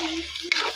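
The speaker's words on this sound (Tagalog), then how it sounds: "Haluin. Natin muna na mabuti." Pork with shrimp paste being stirred in a pan, a short close scrape of a utensil over a soft sizzle.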